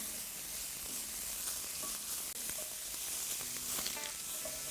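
Bacon pieces sizzle and fry in a pan toward golden brown, a soft steady crackle with faint pops and occasional light stirring, quiet and alone without talk.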